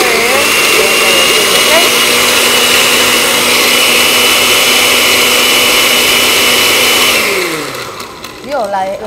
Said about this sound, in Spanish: ella es la licuadora reversible